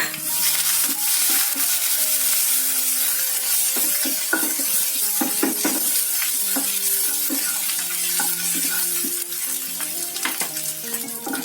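Ginger paste with cumin, black cumin, dill seed and coriander sizzles steadily in a hot pan while being cooked for potato curry, with a loud, continuous frying hiss broken by frequent clinks and scrapes of a spoon against the pan.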